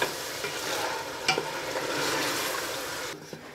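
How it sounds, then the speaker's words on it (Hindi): Beef fried with ginger garlic paste in a pan, giving steady loud sizzling and crackling with occasional scraping stirs, no talking. "2 मिनट तक अदरक और लहसुन को गोश्त के साथ फ्राई कर लेंगे।"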